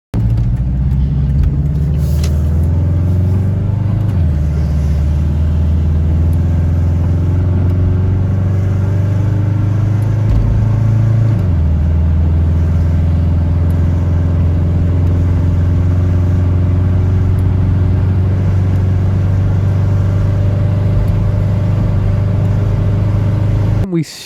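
A 1990 JDM Subaru with a faulty transmission, missing fourth gear, being driven, its engine a steady loud low drone that rises and shifts pitch a few times, heard from inside the car.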